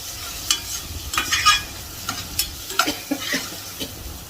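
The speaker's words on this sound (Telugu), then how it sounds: "ఉల్లిపాయలు సగం మగ్గిపోయినాయి." Onions fry in oil, half softened, while a spoon scrapes and stirs them in a series of sharp, separate strokes over a soft sizzle, heard close with no voices.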